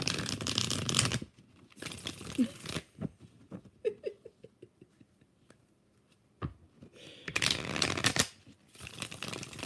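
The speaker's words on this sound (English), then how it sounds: "Two more shuffles." Tarot cards are shuffled in bursts: loud papery riffling runs at the start and end, with a middle stretch of quieter taps, flicks and card handling.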